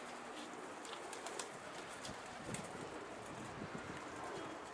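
Pigeons cooing on a rooftop loft outdoors, soft repeated coos and calls over steady open-air background noise, with a few faint wing flutters.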